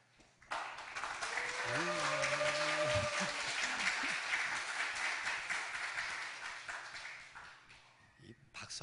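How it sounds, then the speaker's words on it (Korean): Congregation applauding during a church worship service, sustained clapping that swells and then fades, with voices talking and a brief held vocal tone heard over it early on. "박수하는 게 좋군요, 보니까."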